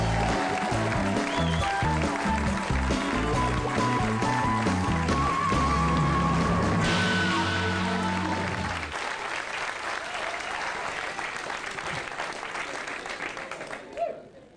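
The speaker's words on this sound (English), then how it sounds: "Thanks for that lovely round of applause." A comedy club audience gives a comedian a long, loud round of applause with some cheering, steady and dense at first, then thinning into scattered clapping before fading near the end.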